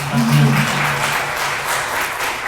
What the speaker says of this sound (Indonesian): saya ingin tepuk tangan apresiasi untuk INKA